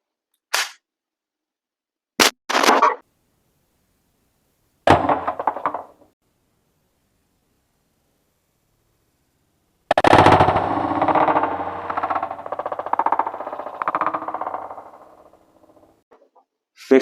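An Umarex HDR 68 calibre .68 revolver fired at a chronograph, sharp isolated shots separated by silences, followed by a longer rattling, clattering stretch that trails off, close and loud.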